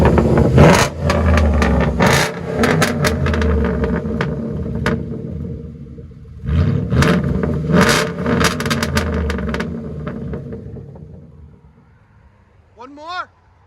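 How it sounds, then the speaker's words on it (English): A Ford F-150 pickup engine, either the 5.4L or the 5.0L, revs loudly and close in repeated surges and rumbles, with voices talking over it before it fades near the end. "Ford F-150 right there."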